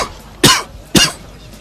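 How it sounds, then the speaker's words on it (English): Two harsh coughs from a person with a bad cold in quick succession, close and loud, with a brief pause between them. "and I'm coughing every 5 minutes."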